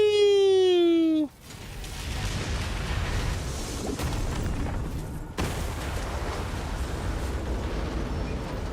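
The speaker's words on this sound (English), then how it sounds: "That's one big boomy down." Explosion in a shooter video game: a rising tone cuts into a heavy boom, followed by a sustained rumbling roar and a second burst midway, loud and continuous.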